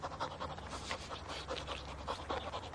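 A large dog pants close by in quick, steady, rhythmic breaths for the whole stretch, at moderate loudness with no voices.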